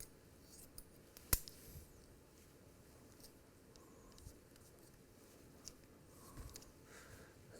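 Scissors snip hair during a men's haircut, with faint, sparse clicks under a quiet background and one sharp, brief snap near the start.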